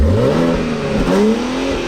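A stock BMW X4 M engine and exhaust rev loudly and close up, the pitch climbing and falling in sustained sweeps with no voices over it.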